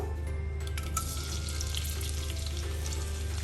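Chopped onion dropped into hot oil for a kalmi shak and baby prawn fry, a steady loud sizzle with a few light clinks of a utensil on the pan.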